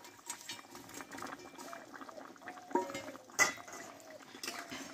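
Tilapia fish curry with drumstick pods and potatoes simmers in a pot, a faint, steady bubbling and soft popping patter with a couple of sharper pops close by.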